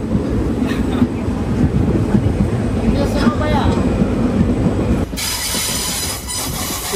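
The Sabari Express (17230) rolls along at speed, heard from inside a carriage as a loud, steady rumble with rattling and wheel noise, joined by a brief high squeal while it rounds a curve, with people talking over it.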